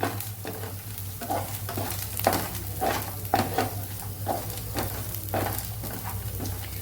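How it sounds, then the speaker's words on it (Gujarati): Onion and garlic sauté in a pan, with steady sizzling and frying under repeated scraping and stirring strokes that fall every half second or so, close and fairly loud with no talking. "તો ડુંગળી થોડી અહીંયા આપણે સતરાઈ ગઈ છે તો લસણને પણ સાથે સાતળવાનું છે"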